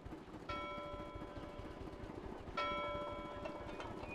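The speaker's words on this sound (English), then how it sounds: "the bells rang, and the great wheels began to turn" Ship's bells ringing at departure from a Milwaukee dock aboard the paddle steamer Lady Elgin, two clear metallic strikes with lingering ring a couple of seconds apart, moderately distant over low background rumble.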